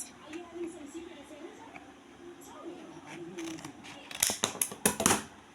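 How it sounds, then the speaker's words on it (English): Scissors cutting material for a boater hat, a quick run of crisp snipping clicks near the end, close, following a stretch where a person talks quietly. "I'm just going to cut this a bit"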